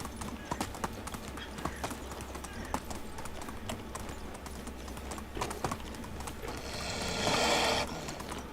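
Horse hooves clip-clopping at a gallop in the Medieval Dynasty video game, a quick steady rhythm of soft thuds running throughout, with a swelling rush of movement near the end and faint talk in the background.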